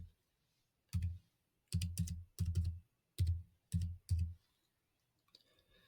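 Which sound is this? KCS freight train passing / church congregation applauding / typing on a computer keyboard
typing on a computer keyboard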